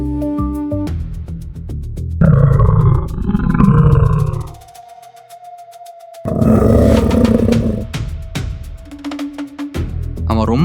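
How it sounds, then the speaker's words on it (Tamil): A lion roars in a dramatized animated story for children, a deep, loud, rumbling roar laid over a dramatic music score with sustained tones, and the roars surge twice between quieter musical passages. "அந்த பயம் ஒரு கொடிய சிங்கம்."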